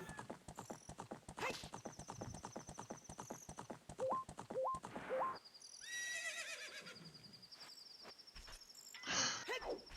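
Horse hooves clip-clopping in a rapid, steady gallop in the Ocarina of Time Randomizer video game, with a whinny and neighs, then the riding stops and chiming game effects follow.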